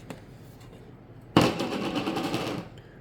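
An ultrasonic cleaner filled with Lucas bore solvent in a plastic jar starts abruptly after a quiet second, giving a harsh, rattling buzz for about a second and a half before cutting off.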